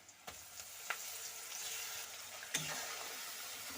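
Spice mix tipped into onions frying in a pan for a Bengali potato and magur catfish curry, giving a steady close hiss of sizzling oil with a few sharp clinks and scrapes as it is stirred.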